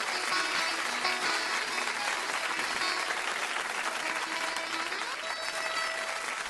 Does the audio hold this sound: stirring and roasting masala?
no